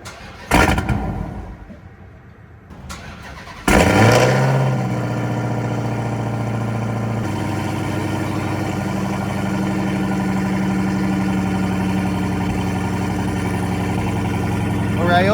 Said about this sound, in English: Forgot how loud this thing was. Set you guys down, let you hear it idle.